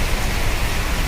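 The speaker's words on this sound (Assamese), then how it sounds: "বৰষুণ চাওক পূৰা বাঢ়ি গ'ল" Heavy rain pours down at a fuel depot, a dense, steady hiss of water filling the whole space with no breaks.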